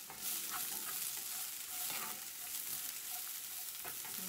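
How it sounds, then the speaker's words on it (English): Carrots sauteing in a hot pan give a steady, close sizzle that holds for the whole stretch, with a few soft stirring clicks from a utensil and no voices over it. "Let that saute for just a second."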